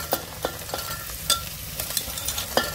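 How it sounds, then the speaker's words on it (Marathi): Potatoes, peas, carrots, chickpeas and peanuts stirred and sautéed in an oiled pan for masala rice, with a soft steady sizzle and sharp spoon scrapes at irregular intervals, close by and with no talk. "ते पण छान असं परतून घेऊया"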